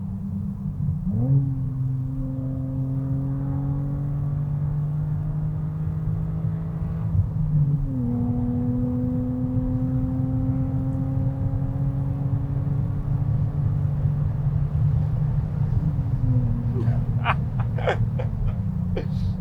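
Naturally aspirated BMW Z4 engine heard from inside the car with the roof down, a loud steady drone that climbs in pitch through gears with two distinct shift drops, road rumble underneath and faint rattles near the end.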